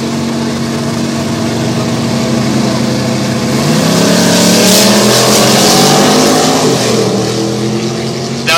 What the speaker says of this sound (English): here now is Kurt Brookman from Port Alberni, driving an 81 Chevy El Camino, going against another Port Alberni boy, Rick Hebert, 67 Chevy Chevelle.